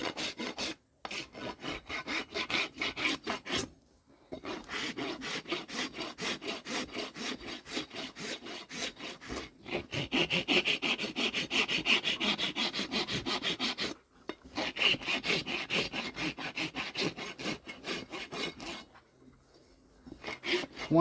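A farrier rasps a horse's hoof smooth during shoeing, a rapid rhythmic scraping of steel file strokes in long runs broken by a few short pauses, close and fairly loud.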